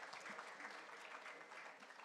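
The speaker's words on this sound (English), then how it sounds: "Give them a round of applause." Steady, faint crowd applause at a trade fair as a visiting delegation stands to be recognized, a dense wash of many hands clapping without a break or nearby voices.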